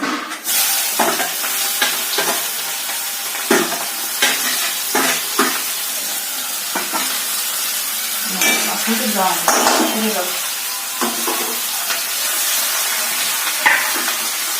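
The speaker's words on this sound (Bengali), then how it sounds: "তেলটা গরম হয়ে গেছে, পেঁয়াজ দিয়ে দাও।" Onions hitting hot oil in a pan for a chicken and potato curry: a steady loud sizzle runs throughout, broken by repeated scraping stirs of a spatula against the pan.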